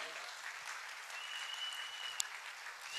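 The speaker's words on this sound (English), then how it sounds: "Give a clap offering unto the Lord." Church congregation clapping during an Easter Sunday service, a faint, distant, even patter of many hands with a thin sustained tone and one sharp click partway through.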